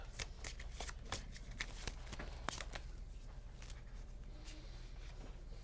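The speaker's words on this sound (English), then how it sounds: "Which means I get to shuffle." A deck of playing cards being shuffled at a tabletop game session, a rapid run of crisp riffling bursts and slaps close to the microphone, with no voices.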